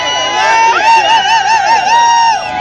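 Loud crowd at a campaign rally in Preston, cheering and shouting steadily throughout with a rising, wavering chant-like tone over dense babble.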